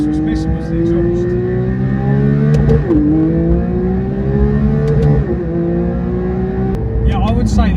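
A Porsche 992 GT3 fitted with a Milltek exhaust revs loudly and close by, its high-pitched engine climbing through several rising sweeps with brief dips between them as speech mixes in.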